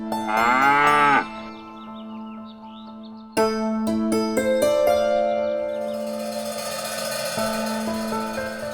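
Buffalo mooing in a sitcom scene: a loud, long low moo opens, followed after a pause by a second drawn-out bellowing call with harmonic overtones, close and clear with no talk.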